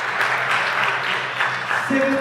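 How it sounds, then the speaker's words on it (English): A darts tournament crowd at the 2024 BDO Namibian Open applauds loudly and steadily throughout, a dense wash of clapping. "And this time, just look at that applause."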